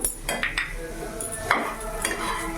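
A spatula mashes and mixes potato in a pan, giving soft scraping strokes and occasional light clinks of metal, close and moderately quiet.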